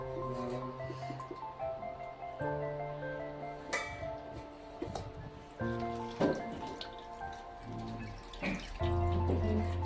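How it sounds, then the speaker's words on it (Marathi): Chutney water for pani puri being strained, with steady dripping and trickling liquid and faint utensil clinks throughout, close and continuous. "ते पाणी मी असं मस्त गाळून घेणार आहे"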